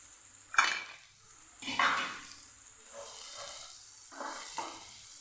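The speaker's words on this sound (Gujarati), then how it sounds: "આપણે ડુંગળીને સાતરી લેવાની" Chopped onions with green chillies sautéing in a pan for restaurant-style paneer bhurji, a soft sizzle broken by a few louder stirring scrapes and clinks of a spoon against the pan.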